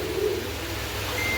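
A Gorra pigeon gives a single soft, low coo early on, followed by a steady, quiet background hum.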